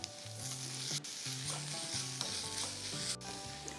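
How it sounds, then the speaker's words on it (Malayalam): Onions with half a teaspoon of salt sautéing in a pan while being stirred for a tomato stew, a steady close sizzle with repeated scraping and stirring strokes and music playing under it. "ഒന്ന് സോഫ്റ്റ് ആകുന്ന വരെ വഴറ്റിയെടുക്കുക. ഈ സവാളയിലേക്ക് ഞാൻ ഒരു അര ടീസ്പൂൺ ഉപ്പും കൂടെ ചേർക്കുകയാണ്."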